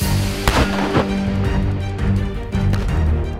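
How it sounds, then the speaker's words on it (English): A Boom Whoosh remote avalanche control system fires outdoors in Utah, giving sharp, loud blasts at about half a second and one second, then further booming reports echoing through the rest of the stretch, with no talking. "Today we tested the Boom Whoosh, which is the newest remote avalanche control system that exists"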